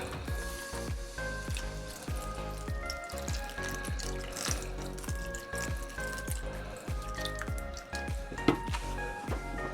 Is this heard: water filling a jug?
yes